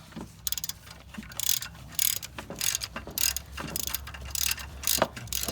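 A hand ratchet cranks out the final cylinder head bolt on a 2017 Camaro SS 1LE LT1 V8 during a garage teardown, giving repeated bursts of close, crisp clicking with brief pauses between strokes and no talking.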